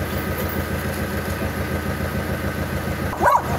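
A jeep engine idles steadily up close while a large dog lets out a single short bark near the end.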